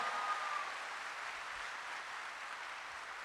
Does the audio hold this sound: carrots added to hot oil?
no